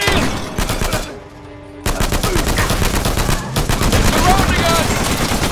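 Dense, rapid gunfire and shotgun blasts in the video game Uncharted 4, continuous loud bursts with brief pauses, mixed with shouting voices and chaotic combat noise.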